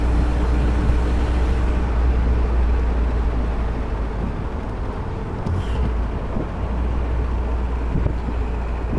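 A 1954 Sunbeam Alpine roadster cruising steadily in fourth gear, its engine a constant low drone with heavy wind rush over the open cockpit, no voices, the noise even and close throughout.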